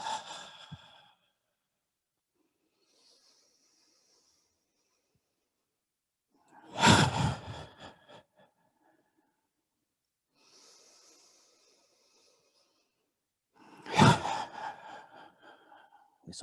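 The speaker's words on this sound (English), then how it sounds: "A quicker breath out." Forceful, quick exhaled breaths during a qigong tree-shaking exercise from the Wudang tradition, three sharp breathy bursts spaced several seconds apart, close and alone with silence and faint breathing between.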